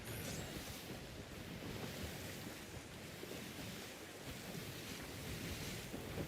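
Steady wind and rolling ocean surf in a sailing video game, a continuous broadband rush at moderate level with no voices.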